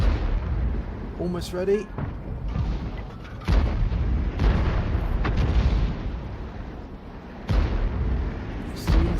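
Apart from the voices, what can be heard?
T92 HMC artillery firing and shell explosions in World of Tanks video game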